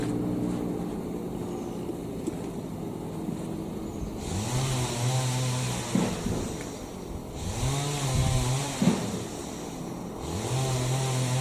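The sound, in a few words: chainsaw cutting firewood or grass mowing outside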